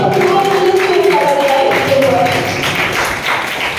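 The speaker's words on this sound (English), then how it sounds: "Please give a big round of applause." Audience applause fills a hall at a World Intellectual Property Day event, a loud, dense clatter of clapping mixed with crowd noise and a voice, fading slightly toward the end.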